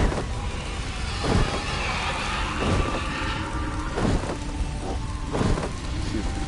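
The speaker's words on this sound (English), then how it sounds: "And it's raining and storming over the dark and stormy night." Steady heavy rain in the online game Tera, a dense wash of noise with several deep rumbling thunder rolls breaking through at intervals, loud and continuous without speech.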